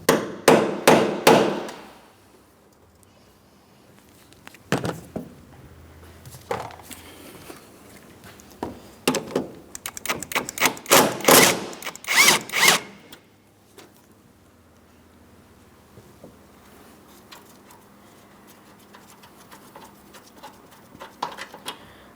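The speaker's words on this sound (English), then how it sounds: "Along either side of the mount, you're going to find that there's a 16mm headed mounting bolt. Let's go ahead and remove the pair." Ratchet and wrench work on very rusted 16mm engine mount bolts of a 2008-2016 Chrysler Town & Country 3.8L V6, with rapid clicking bursts and metallic knocks close by, then quieter fiddling toward the end.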